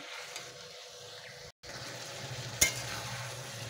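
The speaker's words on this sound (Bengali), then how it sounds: "এইভাবে সব নেড়ে ঢাকা চাপা দিয়ে সিদ্ধ করে নেব" Vegetables and a fish head stirred in a hot frying pan give a steady, soft sizzle with scraping, plus one small clink near the end. The sound is fairly quiet and close, with no talk.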